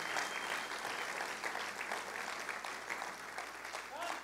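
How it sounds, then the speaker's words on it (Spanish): Soft, distant applause from a Spanish-speaking church congregation rolls on evenly without a break, a low murmur of voices under the clapping. "dele un aplauso fuerte al Señor"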